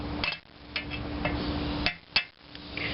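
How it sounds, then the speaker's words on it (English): Hammer striking a chisel against a part of an old McCormick-Deering engine, giving a few sharp metallic clinks over a steady background hum, close and moderately loud. "I probably could bust it away with a chisel"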